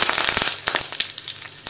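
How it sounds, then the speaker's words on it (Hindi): Cumin, mustard seeds and curry leaves crackle in hot oil for a tadka, giving dense, continuous close-up sizzling with rapid sharp pops scattered throughout. "इसमें डाल देंगे जीरा और डाल देंगे यहाँ पे राई दाना, इनको बढ़िया से चटकने देंगे।"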